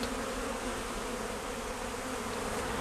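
Honey bees buzz in a dense, continuous swarm drone, loud and close, with no pauses.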